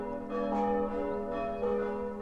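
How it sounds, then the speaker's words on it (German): Bells of an old village church near Wandlitzsee ring out in sustained, overlapping tones, with strikes swelling and decaying in a slow rhythm. "erklingen die Glocken der alten Dorfkirche"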